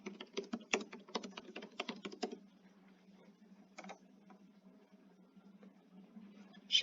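Fingers type a project name on a computer keyboard in Video Editor on Windows, a quick burst of close key clicks for about two seconds, then a few scattered taps in a quiet room.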